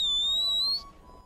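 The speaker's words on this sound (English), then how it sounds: "That's the most annoying whistle noise ever." A shrill, slightly rising whistle from the Red Dead Redemption 2 Online beta holds steady for under a second, then cuts off, leaving quiet game ambience with no talking.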